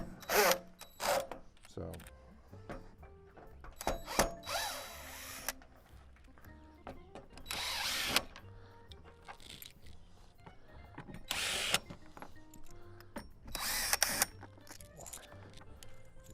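Power drill backing out four screws from the top cover of a Coleman RV air conditioner unit, in short separate bursts between stretches of someone talking.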